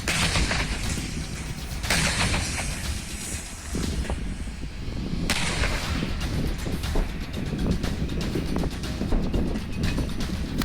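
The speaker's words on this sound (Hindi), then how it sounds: "यहाँ पर जो टैंक्स हैं उनसे इस वक्त गोली बारूद बम बरसाए जा रहे हैं" Tank and artillery fire in hilly terrain during the Donbas war: several loud, booming blasts rip out and roll away over a continuous rumbling background, with no speech.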